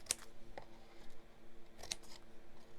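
Scissors snip through papercraft pieces for a daisy make, two or three crisp, quiet cuts close by with soft rustling of paper between them.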